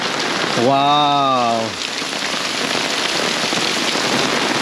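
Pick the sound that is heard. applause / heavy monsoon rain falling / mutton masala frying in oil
heavy monsoon rain falling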